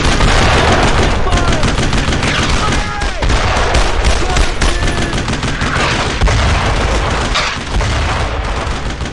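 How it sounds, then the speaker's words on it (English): Sustained suppressing gunfire in a retro tactical video game, dense overlapping rifle and machine-gun bursts with booming impacts, loud and continuous, with shouted voices mixed in. "Don't stop firing! Suppressing fire! I need suppressing fire!"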